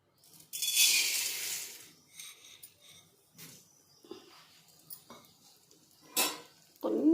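Chana dal frying in a couple of spoons of oil, with a burst of sizzle, then scattered clinks and scrapes of a spoon against the pan in short separate bursts.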